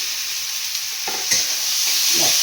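Boiled potatoes and spices are stirred in a hot pan, a few scraping strokes over a constant loud sizzling hiss, close by and without speech.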